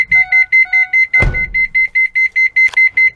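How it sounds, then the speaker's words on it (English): A van's child alarm system warning chime pulses rapidly and steadily at about four beats per second, set off by a door opening, interrupted once by a brief loud thump or door clunk midway. "if anybody opens any doors, like I said, you have kids in the back and they go to open the door, it will set the alarm"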